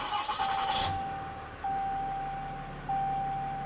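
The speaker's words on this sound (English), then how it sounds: "having a massive diesel engine like this Cummins engine" A Cummins diesel engine in a truck cranks and catches, then settles into a steady, low rumbling idle broken by a couple of sharp shifts in tone, close and fairly loud.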